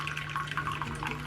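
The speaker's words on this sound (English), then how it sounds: "So I'm just going to pour some hot water in it" Hot water poured into a tray of candles, a quiet, steady trickling and splashing of liquid, close and faint, with no talking.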